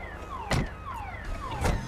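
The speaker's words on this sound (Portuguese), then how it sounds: "Tem alarme nessa porra" A car alarm sounding in GTA V, a looping electronic whoop with repeated falling tones and two loud bursts, steady and fairly close.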